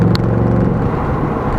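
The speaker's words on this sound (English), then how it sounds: "I'm going to put it into racetrack mode, and yeah, it should be pretty loud now." A 2019 Ford Mustang Bullitt V8 in racetrack mode gives a loud, close, deep engine rumble that holds steady for a moment, with one sharp higher tick near the start.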